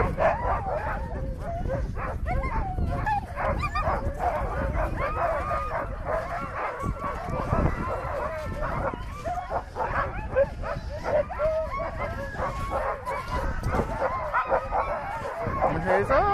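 Sled huskies at feeding time, a dense chorus of excited yips, barks, whimpers and howls from many dogs at once, continuous and loud, with people talking underneath.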